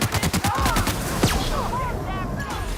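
Rapid gunfire in The Outer Worlds, a quick burst of several sharp shots opening the moment, followed by a heavier boom and continued scattered combat noise with faint voices underneath.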